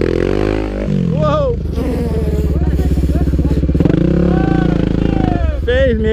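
A dirt bike revs and sputters loudly on a rough trail ride, the engine note climbing and dropping in uneven bursts close to the microphone, with people shouting and talking over it.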